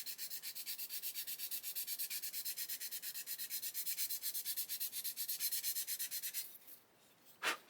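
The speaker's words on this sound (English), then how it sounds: "we'll get a nice coarse sanding stick" A coarse sanding stick rubs a radius onto a part of a 1/8 scale Pocher Lamborghini Aventador model, close and steady with fast rhythmic back-and-forth strokes for several seconds before stopping, followed by one last scrape.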